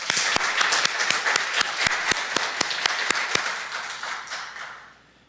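Applause from a church congregation during a Sunday service, steady and fairly close with a few sharp individual claps, fading out at the end.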